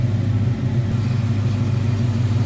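A 1964 Chevrolet Chevelle Malibu SS V8 idles smoothly with a loud, steady, deep low rumble close by, even and unbroken throughout, no voices.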